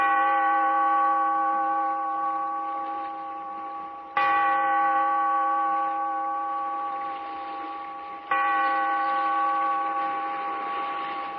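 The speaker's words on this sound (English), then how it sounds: "Bellkeeper, toll the bell" A single deep bell tolling in an old radio drama, three strong strikes about four seconds apart, each a rich, ringing tone that fades slowly before the next blow.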